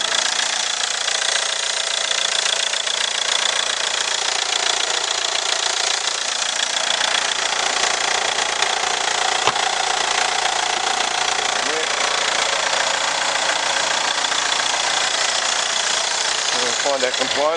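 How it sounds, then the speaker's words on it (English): A Ford Mondeo 2.0 Duratorq diesel engine idling with the bonnet up, a loud, steady, rough rumble with a knocking clatter that continues evenly throughout. "Yeah, Duratorque engine."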